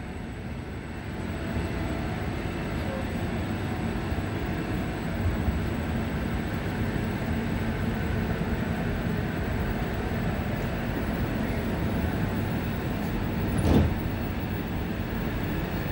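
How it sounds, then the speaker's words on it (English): A Stockholm commuter train (pendeltåg) rumbles steadily at Kallhäll station, a constant low drone of wheels and motor with a brief louder clatter near the end. "it is the last stop here on the pendeltåg, the train line."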